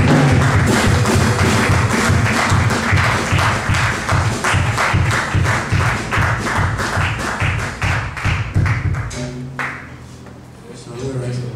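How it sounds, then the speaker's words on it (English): A church congregation claps in a steady, loud rhythmic beat for several seconds, with music or voices blended in, before the clapping fades and thins out near the end. "Let's give God a clap offering"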